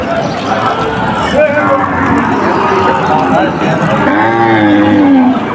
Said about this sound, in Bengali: সুন্দর সুন্দর গরু আছে এই হাটে